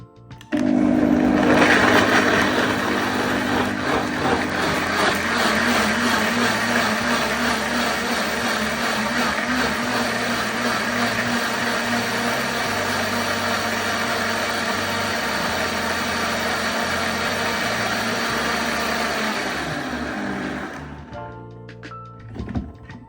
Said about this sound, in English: Just dump everything in your your blender, and blend this until smooth.